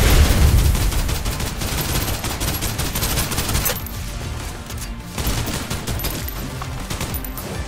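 Sustained suppressive gunfire from the Snowbreak sci-fi shooter game, dense rapid bursts of automatic shots rattling loud and close, easing briefly midway before the volley resumes.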